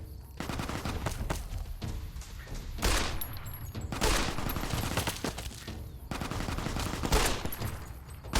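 Near-continuous 9mm pistol fire in Fallout: New Vegas, a dense run of rapid shots with a few louder bursts standing out, along with battle noise and no talk.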